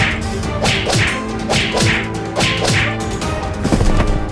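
Cartoon zombies pound a road in a run of sharp whip-like whacks and swishes, falling in a rough repeating rhythm roughly every half second, loud and close, with no talking.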